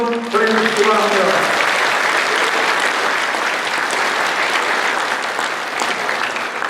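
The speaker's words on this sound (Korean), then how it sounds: "당원 동지 여러분 큰 격려의 박수 한번 보내주시기 바랍니다" Loud, dense applause from a crowd of party members at a provincial party ceremony, steady and sustained throughout, with a voice briefly audible at the start.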